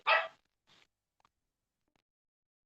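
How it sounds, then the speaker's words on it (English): A pet dog, a female, gives one loud close bark followed by a quieter second bark and a few faint small sounds, then silence indoors. "That is our dog."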